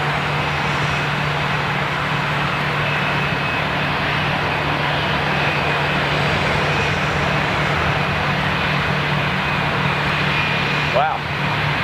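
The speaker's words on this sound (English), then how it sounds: "That's a proper, good-looking aircraft. That is Gulfstream, yeah?" A Gulfstream jet aircraft passes at steady distance, a broad continuous engine roar with a faint high whine holding for the whole stretch, loud and unbroken.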